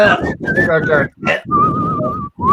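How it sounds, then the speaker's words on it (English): A person whistles tunefully in short wavering phrases during a tabletop horror role-playing session, mixed in with lively talking among the players. "You're whistling as well."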